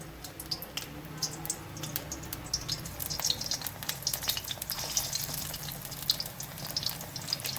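Brinjal pakoda slices frying in hot oil, a steady crackling sizzle with dense bright pops, close and continuous throughout.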